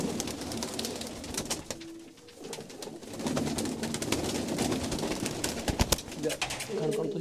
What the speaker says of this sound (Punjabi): ਇਹ ਜੱਸੋਵਾਲ ਕਬੂਤਰ ਆ